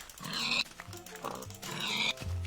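A Minecraft pig grunts and oinks a few times in short, close bursts, with brief pauses between calls.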